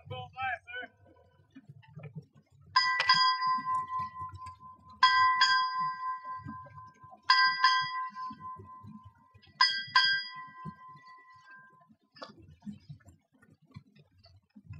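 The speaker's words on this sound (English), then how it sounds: "sound the traditional 8 bells used to signal the end of the watch" Traditional eight ship's bells ring out at a U.S. Navy submarine base ceremony, struck as four spaced pairs of clear metallic strikes that each ring and decay, with low crowd murmur beneath.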